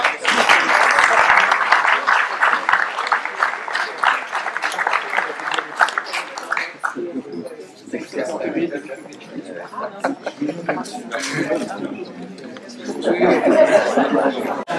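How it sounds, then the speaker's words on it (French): An audience at a town sports awards ceremony applauds the coaches, with loud sustained clapping for several seconds that gives way to chatter and light laughter, then a brief renewed burst. "Alors on applaudit les coachs"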